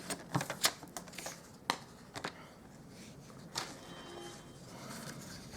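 Scissors cutting out a piece of A6 paper card for a cookie box card, heard as a few close, dry snips and rustles, loudest early on, then softer handling of the paper.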